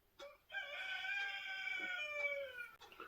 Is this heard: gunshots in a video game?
no